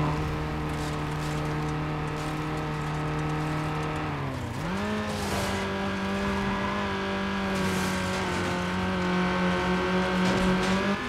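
Race cars in Need for Speed: Underground, including yellow Volkswagen Golf GTIs and a Ford Focus ZX3, drone steadily with a sustained engine tone that dips briefly during a shift, then climbs and holds as they keep accelerating.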